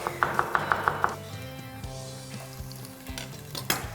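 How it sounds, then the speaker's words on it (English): Onion and garlic fry in a pot, a busy hiss with stirring knocks and scrapes of a utensil, after a short run of rhythmic tapping at the start; no voices. "So, in with the onion, big clove of garlic."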